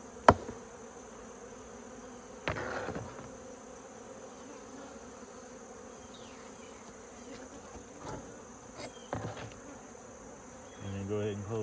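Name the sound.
honey bees buzzing around an open beehive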